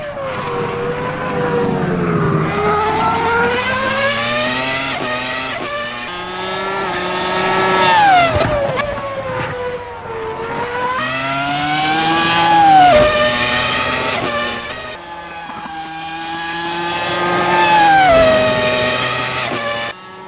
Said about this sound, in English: you just have to love the sound of a Formula 1 V10